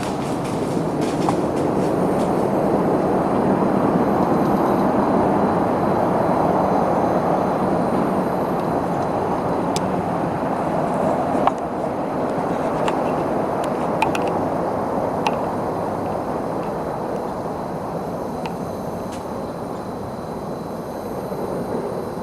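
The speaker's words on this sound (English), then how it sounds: "Cars coming and going." Cars come and go along a road near an Alabama woodland, making a continuous, fairly loud rumbling wash that swells and eases slightly over twenty seconds, with no one talking.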